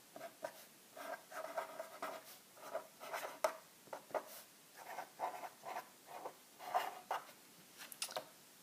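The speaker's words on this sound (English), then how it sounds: "let me write down our identity" A pen writes a trigonometric identity on paper, a continuous scratchy patter of strokes with short pauses, close and quiet, with no talk.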